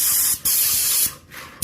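Airless paint sprayer misting paint onto a house's flat exterior wall, a loud steady high hiss in three bursts, the first two long and separated by a brief pause, the last cut short as the trigger is released and pulled again.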